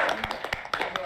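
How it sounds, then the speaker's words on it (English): A small group claps after a singing audition, producing a short burst of sharp, uneven hand claps close by with no talking over it. "Everybody, let's clap it up."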